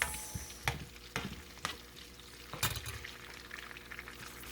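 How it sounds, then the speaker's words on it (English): Onions fry in a pan for pepper sauce with a soft, continuous sizzle, broken by several sharp clicks and knocks of a utensil against the pan, close and moderately quiet. "you need to add your onions, and then you have to let it fry for about"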